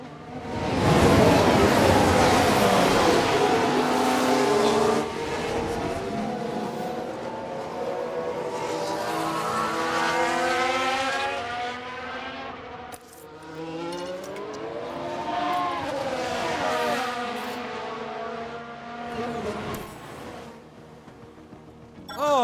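Formula 1 race cars in F1 Manager 22, 1994-season Ferrari race, with engines whining and rising in pitch as several cars pass, steady and fairly loud throughout.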